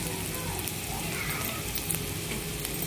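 Ginger and garlic fry in a non-stick pan over a medium flame, sizzling steadily with a soft crackle and occasional stirring.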